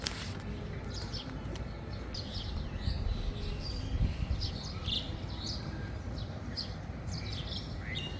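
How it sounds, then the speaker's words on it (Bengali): Morning birdsong around a house among trees, with faint scattered chirps and tweets rising over a steady low background noise at a distance. "তার আগে একটু পাখির কিচিরমিচির শব্দ শোনেন"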